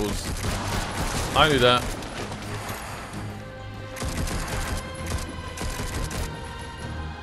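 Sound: shooting with pistols in video game Darksiders Genesis

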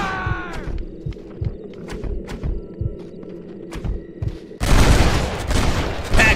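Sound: gunfire from the video game Red Dead Redemption

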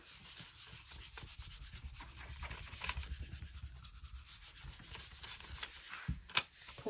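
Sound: rubbing magazine image onto gel printing plate

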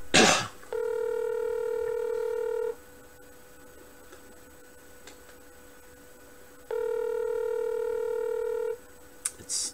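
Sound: telephone call dialing to an animal hospital

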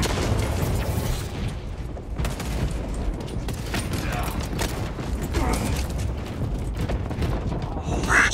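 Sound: frag grenade explosion in video game Warhammer 40K Space Marine 2

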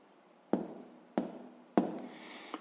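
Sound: writing down a point's coordinates

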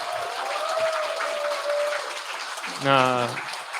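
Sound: audience applause

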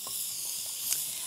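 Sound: onions frying and sizzling in a pan

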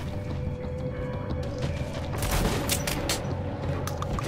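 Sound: rapid-firing gun in Metro: Last Light video game

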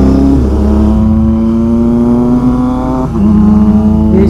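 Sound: superbike engine revving

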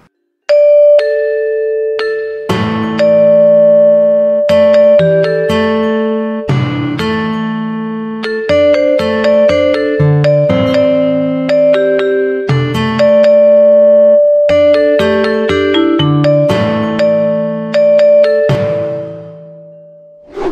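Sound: Balinese gamelan ensemble playing

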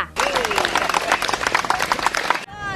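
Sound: clapping

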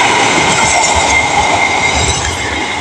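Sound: Argo Semeru passenger train passing through Cikarang station

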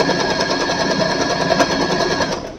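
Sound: Usha Janome Wonder Stitch sewing machine stitching

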